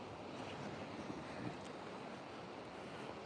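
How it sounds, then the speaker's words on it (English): Ocean surf rolling in at Playa Paraíso beach, a steady broadband wash of breaking waves mixed with light wind noise, continuous and fairly soft throughout with no talking. "Oh, nice waves coming in."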